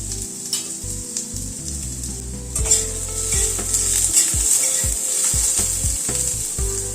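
Potatoes frying in a pan over a tempering of radhuni and fenugreek seeds for a potato and tomato curry: a steady, bright sizzle with intermittent stirring and utensil scrapes against the pan, no talking.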